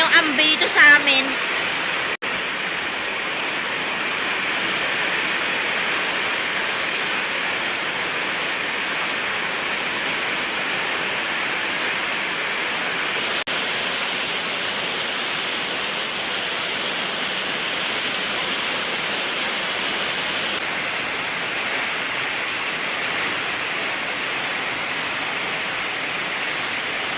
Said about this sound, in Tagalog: Guys, grabe na talaga yung ulan, guys.